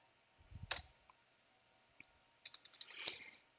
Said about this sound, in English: Then I can also type login again here.